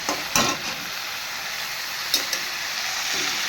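Potatoes fry loudly in a pan with a bright, steady hiss as washed jackfruit goes in, marked by a couple of quick clatters against the pan. No voices are heard.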